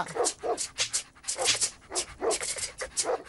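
A voice imitates a dog, giving a rapid series of short panting yips and whimpering barks in an uneven rhythm, close by.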